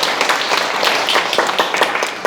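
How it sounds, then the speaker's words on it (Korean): An audience at a Sunday lecture claps steadily, a dense crackle of many hands at even loudness for about two seconds, with no voices clearly over it. "박수 한번 주세요."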